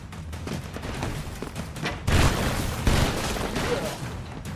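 Rapid gunfire and explosions in the Broforce action game, dense bursts of shots throughout with a louder volley of blasts in the second half.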